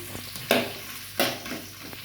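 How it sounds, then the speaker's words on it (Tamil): Onions sizzle in a hot pan while a spoon stirs them, with a few sharp scraping bursts over a steady frying hiss. "போட்டு வெங்காயம் கொஞ்சம் நல்லா வதங்கட்டும்"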